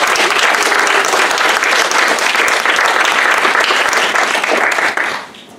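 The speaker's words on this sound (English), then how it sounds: "So let's give them a special round of applause." A church congregation applauds at a Sunday worship service, dense sustained clapping filling the room at a steady level before trailing off quickly near the end.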